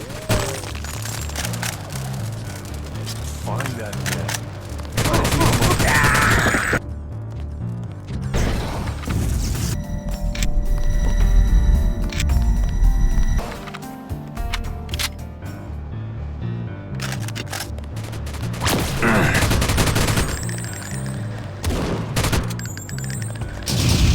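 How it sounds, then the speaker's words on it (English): Artillery and gunfire in The Nameless Mod video game, with loud repeated blasts, crashing impacts and mechanical clatter coming in bursts between quieter stretches. "There's artillery on the main tunnel, by the way."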